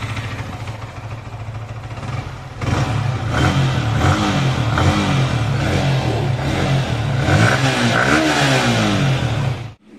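A Yamaha R15 V3 motorcycle engine runs close by after a major service with fresh engine oil, first idling steadily, then rising into a louder, busier drone with repeated throttle blips before cutting off abruptly.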